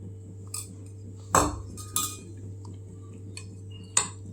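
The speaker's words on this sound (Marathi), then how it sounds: "तर आता हे दही या भातामध्ये मिक्स करून घेऊया।" A spoon mixing curd into cooked rice in a dish, with a few scattered light clinks and taps of metal against the bowl over a quiet background.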